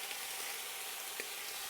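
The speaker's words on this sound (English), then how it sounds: "So we're going to get some bacon going here, cooked up, rendered down the fat" Bacon frying in a pan as its fat renders, a faint, steady hiss of sizzling with a few tiny pops crackling through, close and uninterrupted with no talking.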